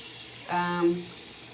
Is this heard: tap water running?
yes